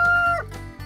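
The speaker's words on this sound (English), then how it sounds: "So there she is, our crooked-footed chicken." A six-week-old chick with a crooked foot gives a short call that slides downward, close and fairly loud, with no talk over it.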